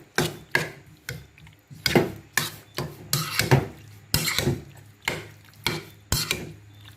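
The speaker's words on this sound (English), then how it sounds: "we're just going to mix everything right here until combined" Raw chicken mixed with soy sauce and black pepper in a bowl, a steady run of wet scraping and clacking strokes against the bowl, close and evenly paced, about two per second.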